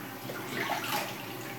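Water runs steadily from a tap as someone rinses off after a shave, a close, even splashing rush lasting just over a second.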